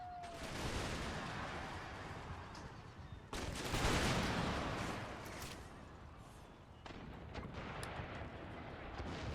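Musket volleys and gunfire in the Empire Total War battle game, a dense rolling crackle of shots with heavier booming bursts, steady and fairly loud across the whole stretch without speech.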